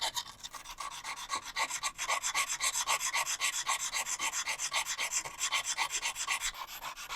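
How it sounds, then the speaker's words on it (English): Cloisonné enamel on copper being scraped in a workshop, a quick rhythmic rasping stroke repeated evenly and close up, fairly loud and with no talk. "They continue scraping until a line appears."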